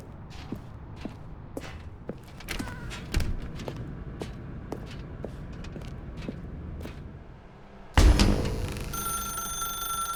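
A telephone in the video game The Stanley Parable suddenly rings out loudly near the end, after a stretch of quiet footsteps and faint clicks.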